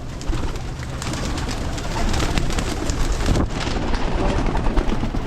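Breeder pigeons crowded in a small net coo continuously at close range, their soft overlapping calls forming a dense, steady murmur over light wind noise, with no talking.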